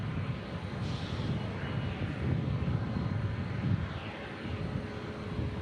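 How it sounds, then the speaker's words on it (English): A Cessna light aircraft landing on runway 18 at Omaha Eppley Field, a steady broadband engine and propeller drone heard from a distance, fairly constant in level throughout with no voices. "we've got a Cessna, looks like landing on runway 18"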